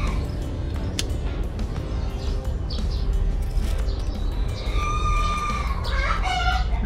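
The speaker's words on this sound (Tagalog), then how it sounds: "Ingay ang mga manok." Chickens cluck and call almost continuously over a steady background hum, with a few sharper squawks near the end.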